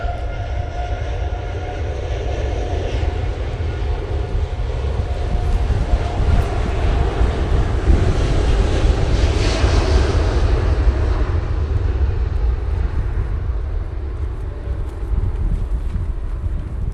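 A Boeing 787 Dreamliner on short final at Manchester Airport roars steadily in the distance, a broad engine rumble swelling and fading amid heavy wind buffeting on the microphone.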